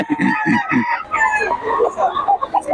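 Hens cluck and squawk in short bursts, close by, with a rooster-like call mixed in among the busy farmyard chatter.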